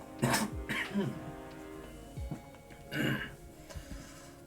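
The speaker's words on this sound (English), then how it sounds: "Sorry, one sec, got a little cough." Several close coughs and throat clearings, two quick bursts at the start followed by a pause and then another harsh cough, loud and alone without talk.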